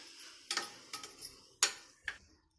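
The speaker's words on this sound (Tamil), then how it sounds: "கழுவி வச்ச அரிசியை சேர்த்துக்கரலாம் ஒரு நிமிஷம் நல்லா வதக்கிடலாம்" Washed kodo millet rice is sautéed in a pan with salt and turmeric for kichadi. A few soft scraping stirs and clinks sound close up and quiet, with gaps between strokes and no talking.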